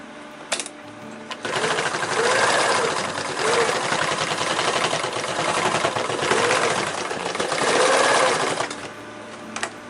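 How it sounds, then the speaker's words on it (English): A sewing machine stitches a bar tack on a rollup backpack in three or four loud, rapid bursts with brief pauses between them, close up and with no talking. "sew another bar tack under the line beneath"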